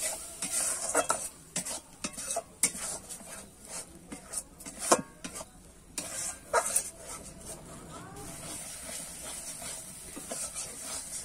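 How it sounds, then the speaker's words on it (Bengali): A spice paste with ground cashew is sautéed in a pan, with a soft hiss under repeated sharp spoon scrapes and clinks against the metal, irregular and close, easing into quieter sizzling near the end. "এখানে যে কাজু বাদামটা বেটে রেখেছিলাম সেটা কিন্তু দিয়ে দেবো। দিয়ে কিন্তু আমি ভালো করে একটু কষিয়ে নেব।"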